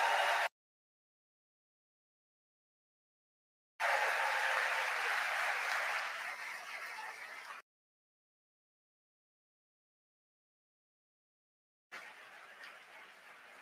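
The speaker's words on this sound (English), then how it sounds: "Give them a big round of applause." Applause from a crowd at a presidential speech at a summit, loud, then gone, returning for a few seconds and fading, then starting again more softly.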